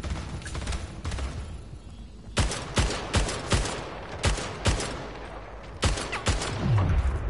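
Bursts of video game gunfire crack out in uneven clusters over steady in-game ambience, with several sharp shots close together and scattered single reports, no talking heard.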